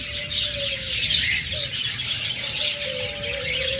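Caged finches kept in a bird sale setting give a pair of soft chirps and tweets, with brief whistled tones and light fluttering, close and moderately loud, without voices.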